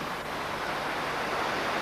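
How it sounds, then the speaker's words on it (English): A city water fountain splashes in a steady, dense wash of falling water, heard close and unbroken, with no voices over it. "I'm not at the top of the fountain, by the way, because it splashes a bit."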